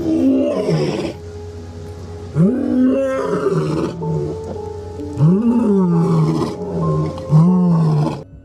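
Lion roaring close to a car in Kruger National Park, a series of deep, loud groaning roars coming in rhythmic bursts with short pauses between them, heard alone with no talking.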